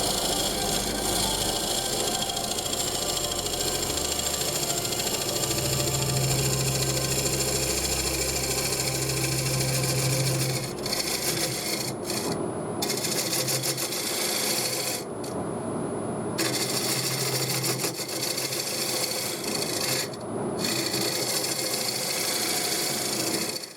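A large piece of wood turning on a lathe, with a continuous loud rasping, scraping drone and low motor hum that runs throughout and drops out briefly in a few short gaps near the end.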